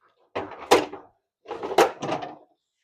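An old wooden workshop drawer, holding Miller Falls tools, slides open and shut in two distinct bursts of scraping and thudding, close and fairly loud with no talk.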